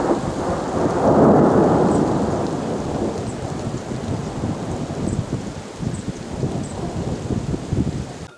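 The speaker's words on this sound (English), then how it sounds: "So now it is rainy season. It's raining too much here in the mountains." Rain pours steadily during the rainy season in the mountains while a long rumble of thunder swells early and slowly fades beneath the hiss of the downpour.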